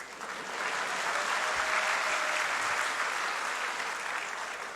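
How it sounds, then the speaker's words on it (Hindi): Boys in an audience clap together, a steady wash of applause that swells slightly and holds at moderate loudness, heard from a little distance without voices over it. "इस बात पे लड़के तालियां बजा रहे हैं।"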